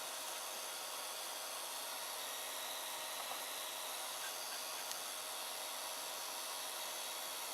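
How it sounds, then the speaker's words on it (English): Steady blowing hiss of a 3D printer's cooling fan for the RAMPS board, sitting close by with the printer fitted with a new fan shroud, continuous and even throughout with no talking. "Most of the noise is coming from my Ramps fan."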